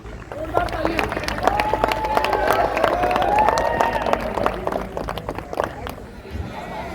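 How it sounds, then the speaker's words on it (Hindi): Audience at a taekwondo championship in Bareilly applauding, a steady wash of clapping and crowd noise with voices mixed through it, swelling in the middle and easing toward the end. "हमारे माननीय विधायक जी के जोरदार तालियां।"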